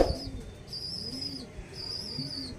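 Pigeons of the Andra breed coo nearby in a loft, low rolling calls repeating in a slow rhythm, with a high faint chirping tone overlaid.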